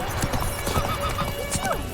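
A horse gallops in The Witcher 3 video game with quick, continuous hoof clip-clops close up, a brief whinny and other game sounds layered in.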